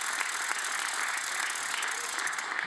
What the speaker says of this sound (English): here's one big round of applause for all the finalists